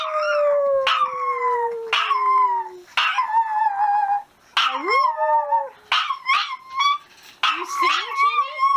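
A dog howls and yips in drawn-out, rising wails alongside a person singing a song, the two trading and overlapping phrases up close.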